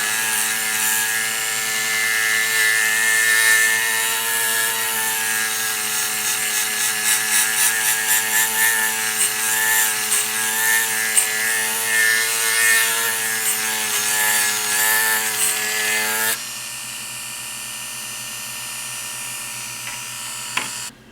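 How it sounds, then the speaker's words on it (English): A buffing wheel whines loud and steady against a clear-coated surface with a Novus polish, its harmonic motor tone wavering as pressure shifts, then cutting to a lower spin-down hum for the last few seconds. "So now we will just hit that with the buffing wheel"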